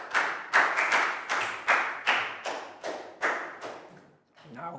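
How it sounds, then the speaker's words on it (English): A small group of schoolchildren in a classroom clap in a series of separate rhythmic bursts, each with a sharp onset that fades, fairly close, ending in a short pause and another brief bit of clapping. "Big round of applause"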